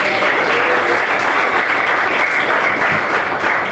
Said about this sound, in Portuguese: Palmas, assim, agradece a Cristo.